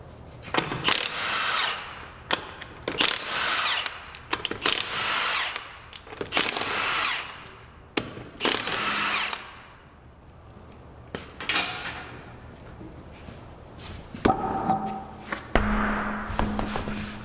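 An impact wrench on a car removes a wheel from an Infiniti to reach the front brake and wheel hub. It fires in several loud, close, rattling bursts of about a second each, separated by short pauses, with clanks near the end.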